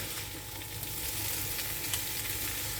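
Ingredients fry in oil in a pan with a steady, dense sizzle that crackles continuously and close up, with no talking.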